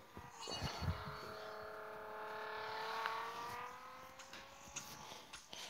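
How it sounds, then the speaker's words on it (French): A Nissan Skyline engine in a Need for Speed No Limits racing game revs up and holds a high, rising whine, fairly faint, with a few clicks and thumps over it. "Le bruit de la Skyline, je l'adore."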